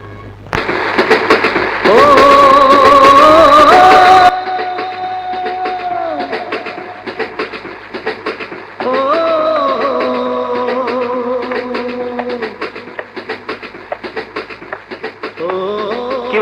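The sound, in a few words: passing train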